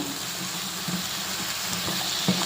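Tomatoes and onions sauté in oil in a hot pan with a steady, even sizzling hiss and a few soft stirring bumps.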